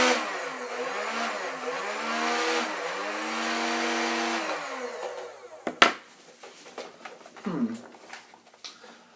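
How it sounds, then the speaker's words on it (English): The flywheel motors of a modified Nerf Stryfe blaster spin up with a high whirring whine that wavers and holds for several seconds, then cuts off, followed by a few clicks and handling noises. "The only way these motors rev is if I do this."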